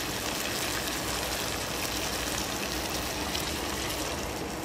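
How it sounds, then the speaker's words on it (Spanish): Water pours steadily into a pot of pumpkin soup, a continuous rushing splash at even loudness throughout, close and with no talk. "Vamos a echarle agua ahí que la cubra"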